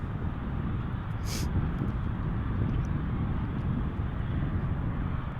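A Boeing 737-800 arriving from Guadalajara at Dallas Fort Worth airport, heard outdoors as a steady broadband jet roar, with wind noise and faint background talk.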